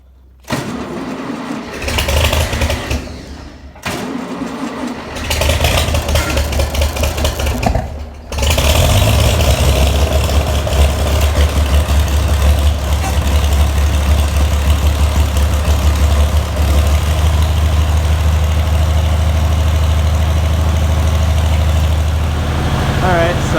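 A 560 tractor engine cranks and catches with the choke held, then settles into a loud, steady low idle near the mic, with a few stumbling bursts early on before running continuously.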